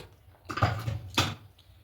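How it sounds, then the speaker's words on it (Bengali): A metal pressure-cooker lid is handled and lifted off with two distinct clanks about half a second apart, each followed by a short rattle, close by in a quiet kitchen. "ঢাকাটা খুলে নিচ্ছি"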